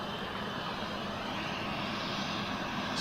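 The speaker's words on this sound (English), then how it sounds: "CF34s make a hell of a lot of noise" A small jet powered by CF34 engines roars loudly and steadily, a broad and unbroken engine rush with no voices over it.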